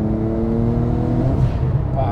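A 1400 hp Porsche 9FF tuned by 9FF accelerates hard, its engine a deep, sustained roar with rising tones, heard from inside the car with no talking.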